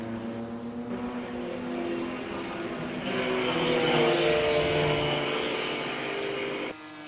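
Porsche Club of America race cars battling at Summit Point raceway: high, droning engine notes climb in pitch and build as the cars approach and pass, then cut off sharply near the end.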